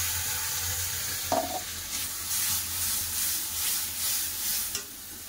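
Chopped onions hit a hot spice tempering of cumin and dry chillies, sizzling in a steady close hiss with a clatter and scraping stirs, no voices.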